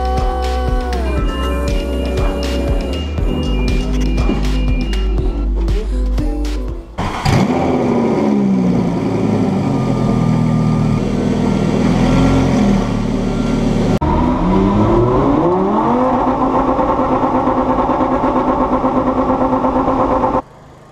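A rally car on a test day in Italy runs loud and close, its engine revving through sharp climbs and gear changes, then droning under load with rising and falling pitch.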